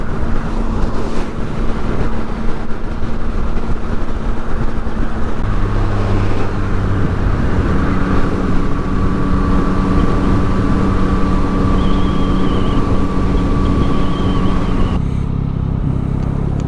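A Yamaha MT-09 SP motorcycle rides along a country road, its engine drone steady under heavy wind rush, with a tone shift partway through and no speech.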